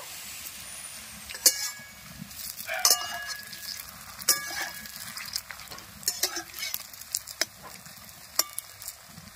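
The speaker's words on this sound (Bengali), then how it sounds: "উল্টে পাল্টে পকোড়াগুলো ভেজে নেব।" Potato pakoras frying in oil in a karahi, turned over with a metal spatula: a low sizzle underneath with repeated sharp scraping clinks at irregular intervals, close by.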